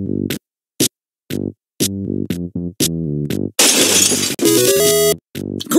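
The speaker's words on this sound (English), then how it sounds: "Great! You smashed that picture of Trevor's family." Glass of a picture frame smashing in the Bomb Corp video game, a loud shattering crash amid a sequence of short, bright electronic game tones and jingles.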